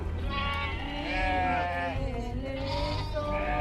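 Sheep bleat in a rural scene of peasants shearing and gathering wool on Ibiza, a few wavering calls overlapping one another at close range over a steady background murmur.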